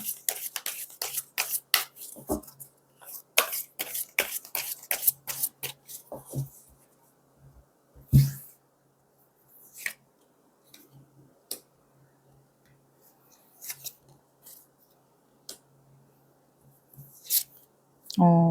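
Tarot cards are shuffled and drawn in a quiet room, a fast run of crisp riffling snaps at the start, then scattered soft slides and taps as cards are laid down, with a faint low hum beneath.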